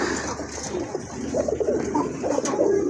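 Running pigeons kept for sale coo nearby, several soft throaty coos repeating over a low background murmur, with no talk.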